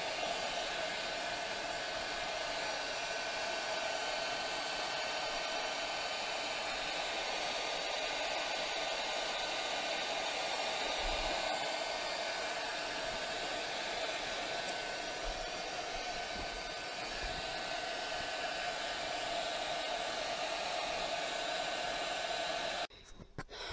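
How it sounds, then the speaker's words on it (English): A handheld craft heat tool blows steadily for over twenty seconds, drying a painted carton base, with a constant close whirring hiss that cuts off abruptly at the end. "I'm going to go ahead though and use my heat tool to finish drying the carton base"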